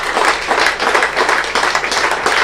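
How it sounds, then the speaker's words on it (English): Cricket crowd at New Road applauding during a Worcestershire versus Sussex County Championship match, steady dense clapping from many spectators, continuous and fairly loud with no talk over it. "that's a very well-deserved round of applause from the New Road faithful"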